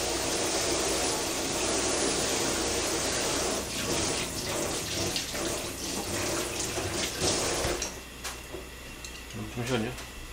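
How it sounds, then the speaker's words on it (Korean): Tap water runs steadily into a kitchen sink while chopsticks are washed, a loud continuous gush that stops partway, followed by faint clinks and a spoken voice. "생물을 만진 거라 깨끗이 씻어주고."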